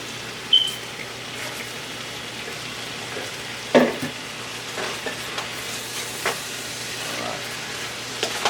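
Carrots stir-fry in a hot pan for vegan chow mein, giving a steady sizzle broken by a few sharp scrapes and clacks of stirring, close and without talk.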